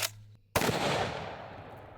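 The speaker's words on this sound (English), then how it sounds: "decimating these targets with some Underwood ammo, 300 Win Mag, 165 grain AccuBond." A single loud, sharp rifle report from a 300 Win Mag firing Underwood 165 grain AccuBond ammunition at targets, preceded by a brief faint click and followed by a decaying echo.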